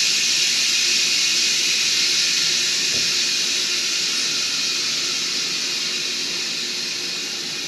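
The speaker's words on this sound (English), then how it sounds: "we gotta let some steam out of our" A loud, steady hiss of steam venting from a pressure cooker, continuous and close, with one brief clunk near the middle and a slight fade at the end.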